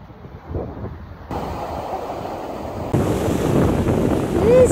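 Wind buffets the microphone at the seaside with waves and surf rushing beneath, a steady broadband roar that grows louder in steps toward the end, no talking.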